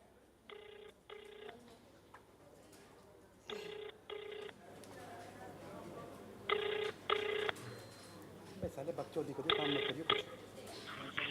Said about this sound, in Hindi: ये नंबर डायल कर दिया है अपने फ़ोन से